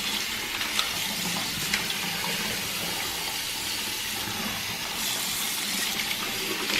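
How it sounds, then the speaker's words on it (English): Warm water runs steadily from a sink tap while plastic BMW E70 climate control buttons are rinsed under it, a soft continuous splashing hiss. "So we're safe to just go rinse this off in the sink and let it air dry."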